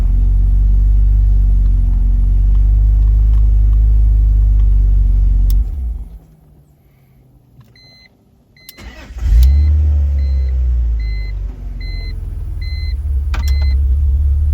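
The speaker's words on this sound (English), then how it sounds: "Now we're back with the sputter, running like shit. And lean backfires again" A BMW E46 engine with vacuum leaks runs with a loud, low rumble, cuts out for a few seconds, then restarts and settles into a rough, uneven idle punctuated by faint sharp pops from lean backfires.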